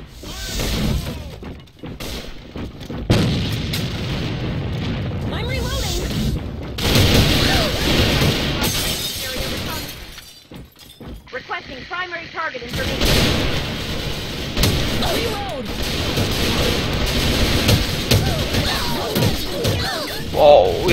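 Rapid bursts of in-game gunfire and explosive booms fill a round of the online shooter AVA (Alliance of Valiant Arms), dense and continuous, with players talking and shouting over the action throughout.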